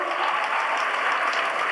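Audience clapping at a Chennai Day speech event, a dense steady roll of many hands filling the whole moment without pause, loud and close.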